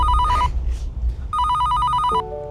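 A telephone bell rings loudly in two close bursts of bright electronic trilling separated by a short pause, then gives way to a brief steady tone, with no voices.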